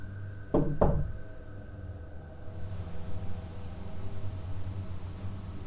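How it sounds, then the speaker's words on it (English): Two sharp knocks in quick succession, close and fairly loud against a quiet room with a low hum, given in answer to a request for two knocks during a ghost-hunting session. "Can you give us 2 knocks?"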